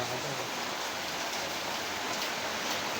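Heavy rain pours down in a constant, dense hiss with no pauses, loud and close throughout.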